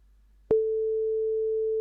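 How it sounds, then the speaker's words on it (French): Old telephone handset giving off an incessant steady tone: a single pure pitch starts abruptly after a brief click and holds unbroken and loud, with no voices. "la plainte incessante du vieux combiné suintait à travers ces ouvertures"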